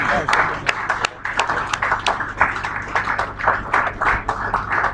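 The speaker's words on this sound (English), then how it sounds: "Please let's clap until he gets here." An audience at a live gathering claps to welcome an elderly guest, with sharp, rhythmic individual claps close by while voices talk over the applause throughout.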